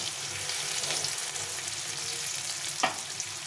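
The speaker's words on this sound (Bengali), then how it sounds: "পেঁয়াজটা একটু লাল লাল করে ভেজে নিলাম।" Chopped onion fries in a pan for a Bengali pumpkin, Malabar spinach and fish-head chorchori, a steady close sizzle with a brief spoon scrape near the end.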